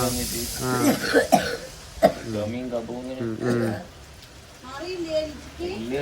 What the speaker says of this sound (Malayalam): ഈ ചുമയാണ് പ്രശ്നം